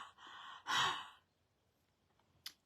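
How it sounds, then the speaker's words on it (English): Someone huffs a few breaths onto a rubber stamp to remoisten its ink, close and audible: a drawn breath, then a strong exhaled huff, quiet pause, and a short final puff. "all I'm going to do is huff on it, which is actually just breathing on it to put moisture back on the stamp itself"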